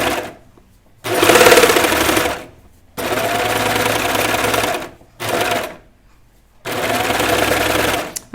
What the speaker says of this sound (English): All right, put my presser foot down. I'm gonna start sewing.